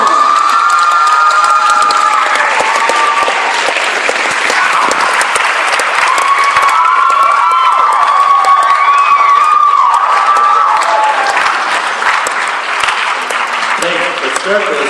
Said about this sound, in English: Please give one more big round of applause to our contestants.